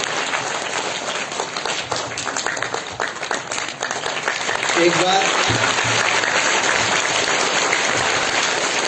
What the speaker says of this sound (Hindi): जोरदार तालियों से उनका स्वागत करते हैं।